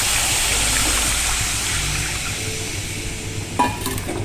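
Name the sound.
hot water poured into frying spiced stuffed-brinjal masala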